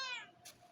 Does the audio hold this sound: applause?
no